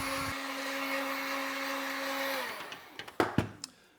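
Steady whirring drone of a heat gun warming adhesive tape on the exterior of an LS-swapped S10 truck, running close and even before cutting off, followed by a few scattered clicks and knocks.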